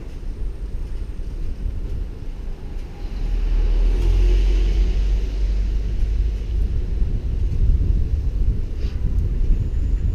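A taxi cab on a Tokyo street rushes past quickly, its low rumble swelling into a loud, broad whoosh mixed with wind buffeting the microphone, close and sustained.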